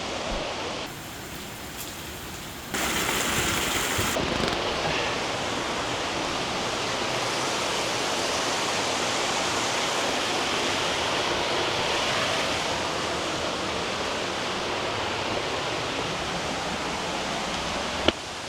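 Sossego waterfall in Brazil roars as a steady, broad, loud rush of falling water, continuous throughout with no talk.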